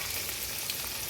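Ivy gourd pieces fry in a pan, giving a steady, even hiss of hot oil at moderate loudness with no voices.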